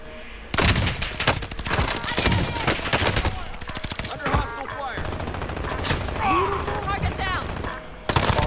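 Dense gunfire in the video game Call of Duty Resurgence, with rapid automatic bursts and sharp single shots firing nearly nonstop, loud and close, while faint voices are heard underneath.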